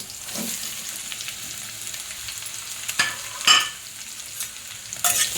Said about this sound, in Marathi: चांगलं फ्राय करून घ्यायचं तेलात